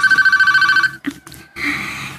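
A cellphone ringing loudly and close by, a rapid electronic trilling ring that repeats in quick pulses, then breaks off and is followed by a few brief clattering sounds.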